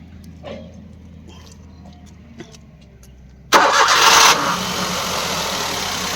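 After a quiet stretch, the 1.0-litre engine of a 2010 Maruti Suzuki WagonR cranks with the key and catches abruptly, roaring briefly before settling into a steady idle close by.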